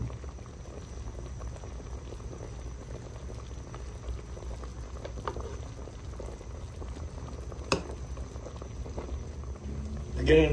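Beef ribs simmer in a pot of water for nilaga, giving a faint, continuous low bubbling with a few small clicks and a brief knock near the end.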